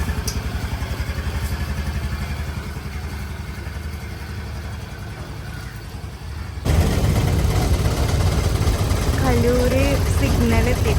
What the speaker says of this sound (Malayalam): ഞാൻ സ്കൂട്ടർ ഓടിച്ചിട്ടാട്ടോ പോകുന്നത്